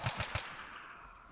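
A short burst of gunfire in the shooter game AXYOS, three or four quick rapid shots up close, trailing off into a faint echo.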